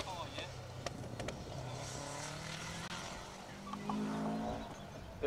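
A rally car passes on an asphalt stage at the Argyll Rally, its engine note rising and falling at mid distance, with a commentator talking over it throughout.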